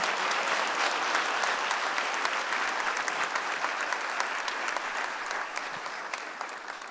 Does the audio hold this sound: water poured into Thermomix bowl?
no